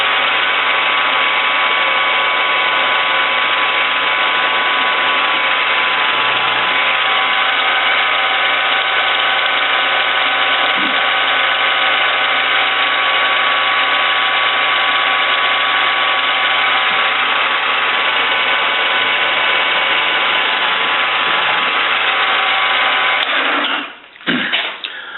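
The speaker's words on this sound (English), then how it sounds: "I'm going to drill one hole at 0. Then I'm going to go to 300 and drill the other hole." A drilling machine runs steadily for over twenty seconds, boring two holes in a workpiece at positions 0 and 300, a loud continuous motor whine with slight changes in load before winding down at the end.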